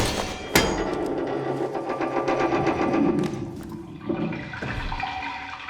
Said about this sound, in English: you should hear a kind of flushing noise